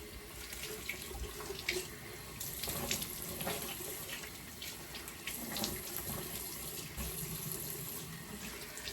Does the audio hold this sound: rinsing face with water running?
yes